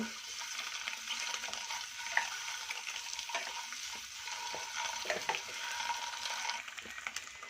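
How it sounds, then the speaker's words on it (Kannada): Eggs roast in a hot pan for dhaba-style egg masala, with a steady close sizzle and occasional scraping stirs and clinks of a utensil against the pan. "ಮೊಟ್ಟೆ ರೋಸ್ಟ್ ಮಾಡ್ಕೊಳ್ಳಿ ನೋಡಿ ಈ ಥರ ಮಾಡ್ಕೋಬೇಕು"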